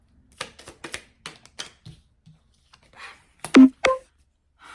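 A run of quick, light riffling and tapping sounds of tarot cards being shuffled by hand, close and fairly quiet, ending in a few sharper snaps.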